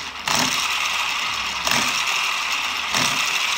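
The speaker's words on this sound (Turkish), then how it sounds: "Öncelikle arkadaşlar 900 watt gücündeki taşlamamla testime başlıyorum." A 900 watt angle grinder spinning an electric motor, a steady high-pitched whine with brief surges as the tool is pressed against it, close and loud throughout.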